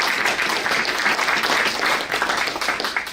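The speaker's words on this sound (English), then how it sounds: "I don't think we've given them a round of applause just for doing what they do every day." An audience applauds law enforcement officers at a health care and opioid crisis event, dense and even clapping filling the whole clip at a strong, steady level.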